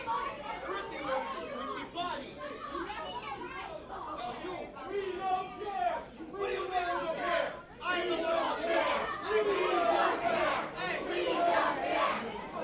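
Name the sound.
wrestling event crowd chatter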